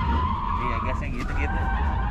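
Electric car drifting with tires skidding, a loud sustained rubber squeal over road rumble, heard up close while voices talk over it.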